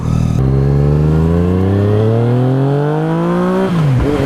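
A 2017 Yamaha FZ09 (MT09) motorcycle accelerates hard, its engine note climbing steadily in pitch for several seconds before the rider shifts. The sound is loud and close, with no talking.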